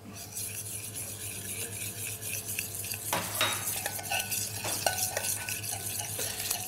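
Spoon stirring a burger sauce of soy sauce, mustard and curry powder in a bowl, soft continuous scraping and swishing with a few sharper clinks of metal against the dish near the middle, close and fairly quiet, no talk.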